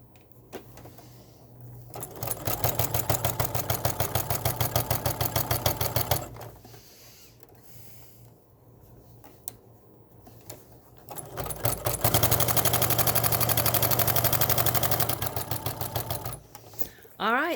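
A sewing machine stitches a jelly roll rug in two bursts of rapid, even clatter, pausing between them, with the motor's steady hum beneath.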